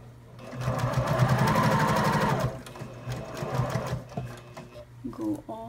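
A sewing machine stitches a zipper pouch in a steady loud whir for about two seconds, then slows into shorter bursts of stitching as a voice talks over the later part.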